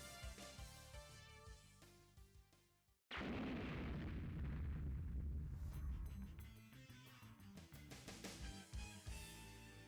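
An F-14 jet in an Ace Combat video game slams into a tunnel wall, a sudden loud roaring explosion that cuts across the game music and then fades back under it.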